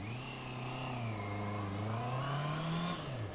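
A Honda CB650R neo-retro motorcycle pulls away from a green light, its engine note rising steadily in pitch as it accelerates, loud and close throughout with a brief dip near the end.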